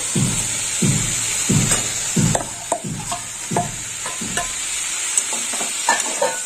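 Fried potatoes stirred into a banana flower dish in a pan: rhythmic spatula scrapes repeat roughly every second over a steady sizzle, close and clear, easing into lighter taps toward the end.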